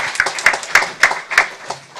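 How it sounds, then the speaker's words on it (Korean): A church congregation clapping together in a steady rhythmic beat, about four claps per second, loud and close, during a Sunday service. "우리 경례의 박수 하겠습니다."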